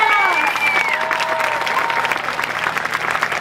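Graduation crowd at a Xicanx/Latinx commencement ceremony applauding the graduates, a dense, sustained wash of clapping and cheering throughout, with a few whistles rising above the roar.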